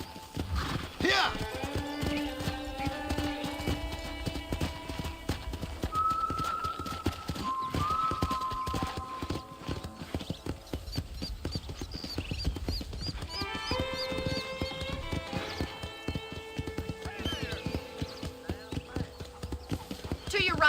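Horse hooves clip-clop steadily at a trot on a ranch in a video game, with whinnies and neighs rising over the rhythm and music and a voice talking throughout.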